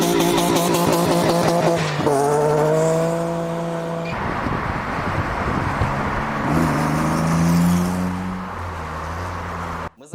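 A 3.2 V6 engine in an Opel Corsa with a 60mm exhaust revs loudly and close, rising and settling through several throttle blips with a steady throaty drone between them.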